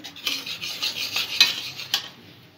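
A spoon stirs fruit salad dressing to dissolve lumps, giving soft rhythmic scraping strokes against a bowl with a couple of sharper clinks, close and fairly quiet.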